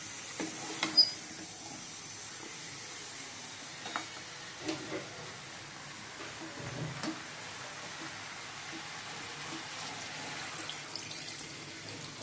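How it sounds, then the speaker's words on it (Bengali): A pan of sautéed prawns in a home kitchen hisses and simmers steadily and fairly quietly, with a few soft stirring knocks; no talk is heard. "এবার গরম জল দিয়ে দেবো"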